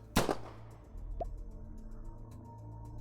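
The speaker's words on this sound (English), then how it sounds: "At the moment when the gunshot sounds, Saya is back to normal" A single sharp gunshot goes off in a video game, a loud close crack that fades into a quiet hum with a brief drip-like tone afterward.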